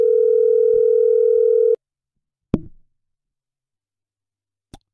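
A telephone dial tone hums steadily and loudly for nearly two seconds and then cuts off, followed by a single soft plop and a faint click in otherwise silent surroundings, while a conference call is being set up.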